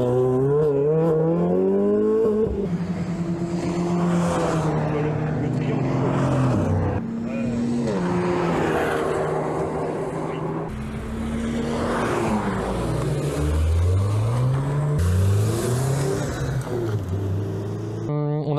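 Race cars drive fast around the Folembray racing circuit. Loud engines rise and fall in pitch through repeated revving and passing sweeps, overlapping in a continuous roar for the whole stretch.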